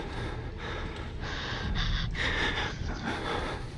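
In the video game Outlast, a man breathes heavily with ragged, gasping breaths close by, in repeated bursts over a few seconds.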